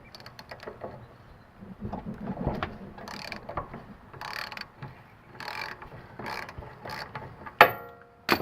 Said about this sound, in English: Now we break this nut loose.